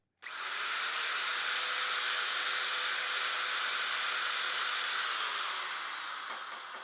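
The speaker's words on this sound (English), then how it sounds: "we're gonna go ahead and run just a little bit of the sandpaper dowel around in there" A power tool spinning a sandpaper dowel inside a golf wedge head gives a loud steady whine that starts abruptly, holds its pitch for several seconds and then winds down, with no voices.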